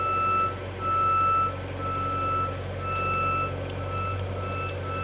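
A 2019 JLG 460SJ diesel telescopic boom lift's warning alarm beeps in a steady repeating pattern over a low, constant engine rumble, loud and close.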